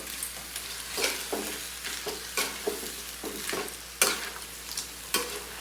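A spicy sauté of mantis shrimp being stirred in a frying pan, with a spoon scraping and clinking in irregular strokes over a steady, close sizzle.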